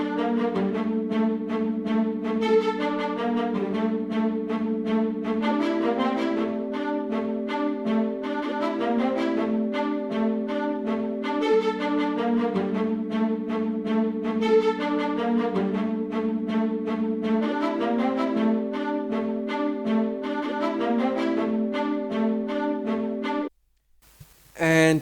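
Layered hip-hop production loop for a beat: a brass sample melody over spiccato strings, with a warm Podolsky lead pad sustaining chords underneath, playing continuously and loud before cutting off abruptly near the end.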